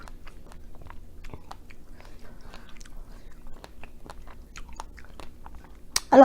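Someone bites and chews strawberries topped with whipped cream, soft wet mouth sounds close up with a louder crunching bite at the end.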